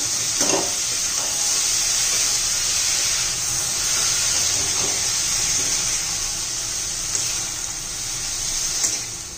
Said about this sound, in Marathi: आता टोमॅटो घालून घेऊया, व्यवस्थित घालून घेऊ।